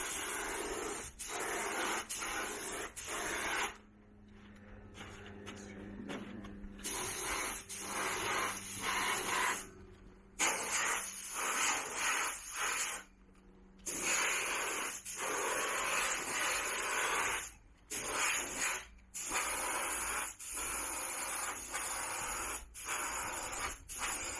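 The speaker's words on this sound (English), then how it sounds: "now they're ready for a coat of paint with my compressor" A compressor-driven spray gun applies one-coat paint to campervan ceiling panels in repeated hissing bursts, each lasting a second or more and separated by brief silences, close and fairly quiet.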